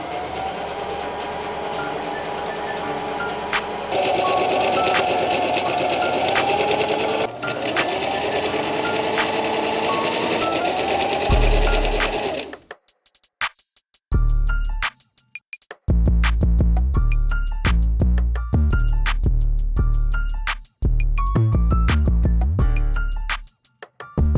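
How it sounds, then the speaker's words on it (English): A sewing machine top stitching plaid fabric for a large round ottoman, first a long steady whirring run, then quick start-stop bursts with rapid needle clatter and short gaps, loud and close. "I pinned it in place and I did a top stitch"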